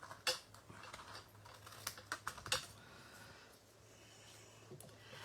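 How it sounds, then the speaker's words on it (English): A blade cutting card along a score line while making a chocolate block gift box, heard as faint, quiet ticks and scratchy clicks in irregular succession over a low background hum. "I'm going to cut all the way down on that score line."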